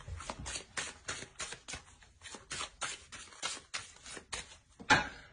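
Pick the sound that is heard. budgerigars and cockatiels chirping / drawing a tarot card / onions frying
drawing a tarot card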